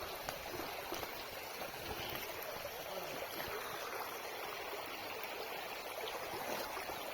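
A stream flows steadily beside a bike trail, its broad, even rush of water constant and close throughout, with no voices over it.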